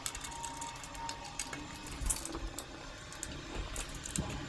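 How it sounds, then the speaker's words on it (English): A 4mm Allen key undoes the seat bolts on a Suzuki GSXR 600/750 motorcycle, with faint close metallic clicks and small ratcheting scrapes over a quiet background, no talk. "Using a 4mm Allen key, we're going to undo this bolt and the same bolt on the other side."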